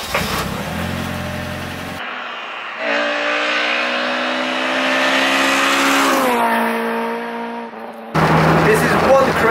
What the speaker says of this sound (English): and start the car up